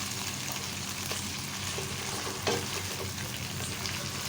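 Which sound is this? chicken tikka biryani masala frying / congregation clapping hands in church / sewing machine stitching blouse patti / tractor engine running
chicken tikka biryani masala frying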